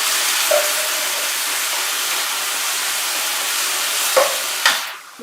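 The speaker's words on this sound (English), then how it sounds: "Okay, some sizzle, right." Two tomatoes sizzle steadily in a hot frying pan for a tofu and vegetable lasagne, a continuous close hiss with a couple of brief clinks near the end and no talking.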